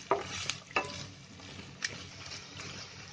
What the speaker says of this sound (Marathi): म्हणजे कांदा चिरला ना बारीक एकदम, मग तो लवकर फ्राय होतो